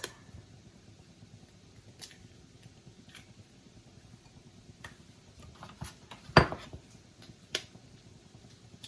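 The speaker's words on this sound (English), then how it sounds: "we need to crack another 12 eggs" Eggs cracked by hand for breakfast burritos in a kitchen, a few soft sharp clicks and taps scattered over a quiet room hum, with one louder crack standing out.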